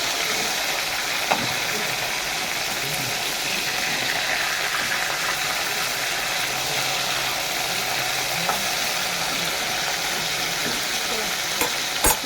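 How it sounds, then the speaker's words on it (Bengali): Snakehead fish sizzling steadily as it fries in a pan, a continuous close hiss with occasional light stirring clicks and no talk. "এই মাছটা বেশি ভালো করে হালকা হালকা করে ভাজতে হয়"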